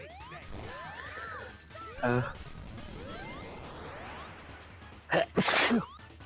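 A person lets out one loud, abrupt sneeze near the end, preceded by a sharp inhale, over a bed of electronic game sound effects with sweeping tones.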